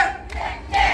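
An outdoor festival crowd at a folk comedy show shouts together in two short loud bursts, voices imitating a sparrow's chirping.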